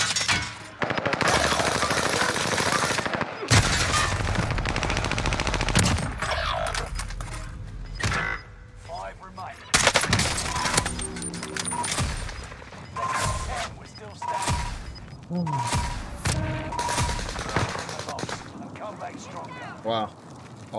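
Rapid gunfire and machine-gun bursts from an enemy in the shooter game Rebirth, loud and dense, with repeated volleys and impacts over most of the stretch, while players talk over the shooting.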